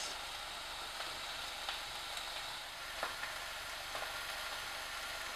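Chicken sizzling in a pan, a quiet, even hiss of frying fat with a few faint pops and ticks scattered throughout.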